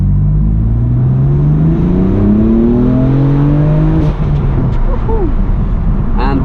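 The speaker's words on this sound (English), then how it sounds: "Let's take our windows down and we can get some exhaust noise." A 2018 BMW M4 Competition Package coupé with manual gearbox revs up through rising gears, its exhaust droning loudly and close through open windows, with wind and road rumble filling the cabin.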